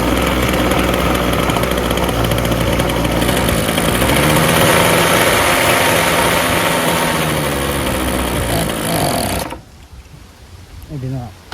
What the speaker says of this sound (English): Runs on half choke very well, but it wants to die